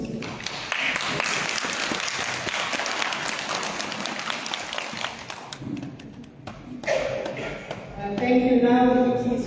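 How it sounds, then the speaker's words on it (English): Indoor applause at a parliamentary committee meeting on an eviction and land occupation amendment bill, a dense burst of clapping that thins into scattered claps before talk begins near the end. "Can we give them a round of applause, please?"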